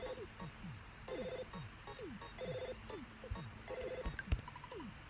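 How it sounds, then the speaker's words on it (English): A telephone ringing in the video game EarthBound, repeated electronic chirping rings in a steady rhythm, fairly quiet, with game sound effects around it. "We have to wait for it to ring."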